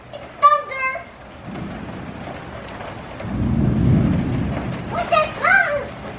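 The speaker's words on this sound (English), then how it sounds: "Yeah, it's thunder." Low, distant rumble of thunder rolling through a windy rainstorm, swelling and fading over a couple of seconds between bursts of a child's and adult's voices talking.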